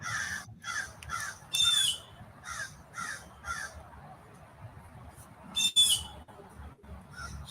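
A crow caws repeatedly overhead at a graveyard tombstone in the woods, a run of harsh calls in quick succession, then a pause and a few more loud caws near the end.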